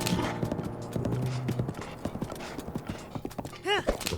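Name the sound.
horse hooves clip-clopping in video game Zelda Breath of the Wild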